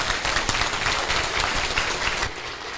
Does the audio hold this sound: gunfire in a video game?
no